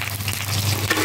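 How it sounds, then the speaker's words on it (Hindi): Curry leaves crackling with mustard seeds in hot oil make a brief, dense sizzle and spatter, close and steady. "कड़ी पत्ते इसमें फटते हैं बहुत ज़्यादा"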